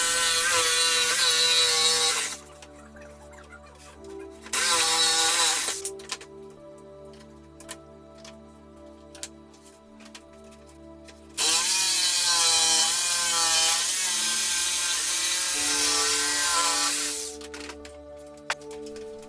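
A jigsaw cutting wood for a wooden toilet seat, loud buzzing bursts of sawing that start and stop several times, with pauses filled by a low steady hum and small knocks.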